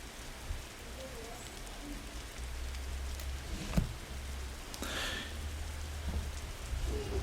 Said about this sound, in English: Let's maybe spend a few more minutes enjoying the rain.